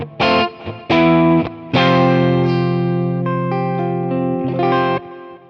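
A Yamaha RGX electric guitar on its humbucker pickup plays with effects: a few short plucked chords, then a long ringing sustained chord that shifts notes before fading, played alone.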